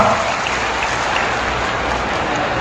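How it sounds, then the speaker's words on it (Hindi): Dense, steady applause from a large crowd at an outdoor political election rally, the broadband clapping filling the whole moment without a break, loud and close. "जोर से ताली बजाओ गोपाल जी के लिए।"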